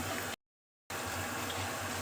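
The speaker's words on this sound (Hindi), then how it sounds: "देख सकते हैं दोस्तों पानी उबल चुका है" Water at a full boil in a covered pot for mixed vegetable pickle gives a steady, close bubbling hiss, broken once by a short silent gap.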